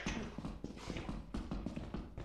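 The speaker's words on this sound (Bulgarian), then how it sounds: "Чуваш ли? Некой тропа, страх ме." Footsteps stomping in the horror video game Lethal Company, a rapid series of heavy, hollow thuds in an uneven rhythm, close and fairly loud.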